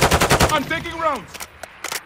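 Rapid bursts of video game gunfire open the moment, a loud machine-gun rattle in quick succession during a close multiplayer match, then give way to a falling whine and a few scattered later shots.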